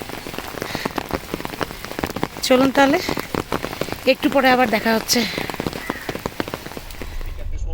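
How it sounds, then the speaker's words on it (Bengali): Heavy rain pours down in Ooty, a dense, constant hiss of drops drumming on surfaces, with a person talking briefly over the downpour in the middle. "এখানেই হয়ে গেল একদম ঝমাঝম বৃষ্টি"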